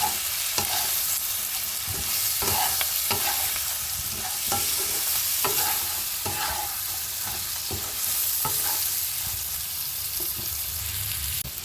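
Bottle gourd greens frying with salt, turmeric and coriander powder, stirred in a pan: a loud continuous sizzle, with repeated scraping and knocking strokes of a spatula throughout.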